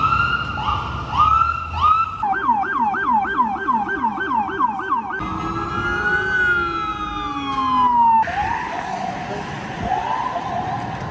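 Emergency vehicle sirens from ambulances and police cars on New York City streets wail and yelp in turn, with fast warbling cycles followed by long rising and falling tones, loud and continuous against street noise.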